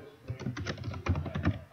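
Rapid clicks of a computer keyboard being typed on, a quick uneven run of keystrokes close by with a short pause before a final tap.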